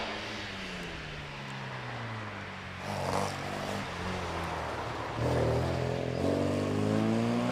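An MGB sports car with an 1840cc engine launching off the start line of a hillclimb, a low engine drone that jumps up in two steps as it accelerates away, steady and fairly close.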